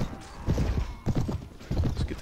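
Cavalry horses gallop in the Mount & Blade Warband video game, with clattering hooves in three rapid bursts and a brief whinny amid battle noise.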